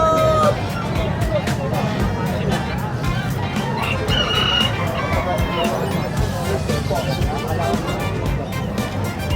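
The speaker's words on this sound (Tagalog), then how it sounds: "Native na manok." Native chicken rooster crowing at a busy pet market, a few short crowing calls and clucks rising over steady crowd babble and nearby talk.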